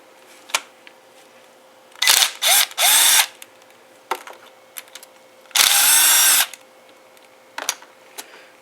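A power tool, a drill-type driver, spins out T30 fasteners on a 2004 Volvo XC90 during a torque rod replacement, with several short loud whirring bursts, one longer burst, and ratcheting clicks and tool clanks between them.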